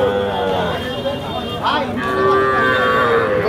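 Cattle at a rural livestock market in Bangladesh, with small local bulls for sale. A single drawn-out moo rises clearly in the middle, heard close by under continuous nearby talk and crowd babble.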